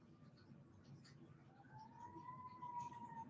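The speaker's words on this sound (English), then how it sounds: "Sorry, sirens." A siren wails in the distance, its pitch slowly rising and falling over steady low background rumble.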